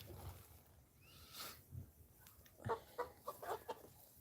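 Chickens cluck in short, close bursts while being fed at home, growing busier toward the end, with quieter rustling earlier.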